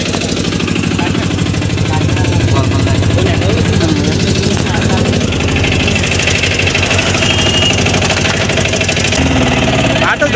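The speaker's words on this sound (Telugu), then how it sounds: "మరి ఇప్పుడు ఆటో సరే ఆపరేట్ చేద్దామండి" An auto rickshaw engine runs loud and close throughout, a rapid rattling, knocking putter with constant vibration and no pause.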